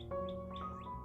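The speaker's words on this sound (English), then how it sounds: "You can hear the birds" Birds chirp in a backyard spring garden, three quick bright sweeping calls in about a second, moderately close, over a low steady background hum.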